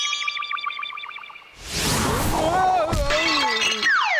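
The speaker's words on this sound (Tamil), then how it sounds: "அந்த பானை உடைஞ்சு போச்சுடா" A clay pot shatters in a Tamil cartoon: soft chiming tones give way to a sudden loud crash, and animated voices talk over the ringing debris afterward.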